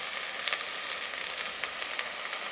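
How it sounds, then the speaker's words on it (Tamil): Ginger garlic paste and coriander sauté in hot oil for a mutton biriyani, giving a steady, close sizzle with faint crackles throughout and no voices. "மல்லி போட்டீங்கன்னா வதங்கிட்டு இருக்குங்க."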